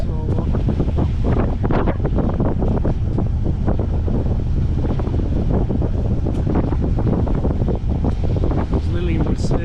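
Wind buffets the microphone aboard a sailing boat off the west of Scotland, a loud continuous rushing roar with gusty bursts and water wash beneath, steady throughout.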